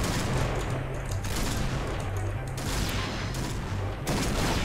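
Dense, continuous gunfire from a shooter video game, rapid overlapping shots and bursts filling the whole stretch at steady loudness, with no voices over it.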